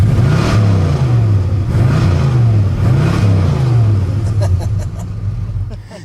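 A 1975 Plymouth Grand Fury police car with a 440 V8 revs in repeated rising and falling pulls, loud and close, with a few sharp clicks near the end.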